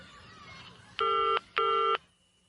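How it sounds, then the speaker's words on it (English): Telephone keypad tones in a song: two clear, loud dialing beeps in quick succession, each lasting about half a second, over a faint musical background. "This is Pink trying to call his wife at home."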